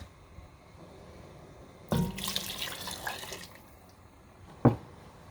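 Water pours steadily into a pot of Ghanaian palm nut soup for about two seconds, fairly close and clear, ending with a brief knock near the end.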